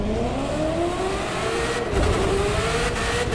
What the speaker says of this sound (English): Right off the bat, look at all that wheel spin, dude. This thing has so much acceleration.